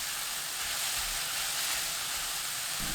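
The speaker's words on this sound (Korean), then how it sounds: "팽이버섯, 다진 마늘 반 큰술 넣고 30초 볶아주세요" Enoki mushrooms and minced garlic stir-frying in a hot pan, giving a steady, bright sizzle and hiss that runs unbroken and fairly quiet with no voices.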